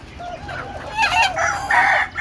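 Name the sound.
chickens clucking and rooster crowing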